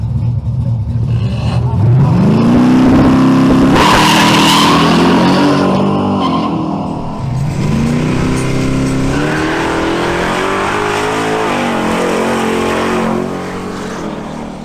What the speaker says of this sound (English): Next, Nicolas Montia in his 1967 Ford Mustang makes a new pass.